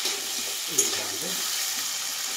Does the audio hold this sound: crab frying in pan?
yes